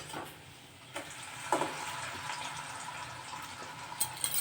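Oats luchi frying in hot oil in a home kitchen, giving a soft, steady sizzle and bubbling with a few sharper splutters, fairly quiet and close.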